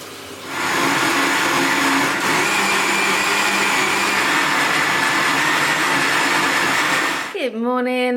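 A blender runs continuously at high speed making homemade oat milk indoors, a loud steady whirring drone that starts up after a moment and then winds down at the end.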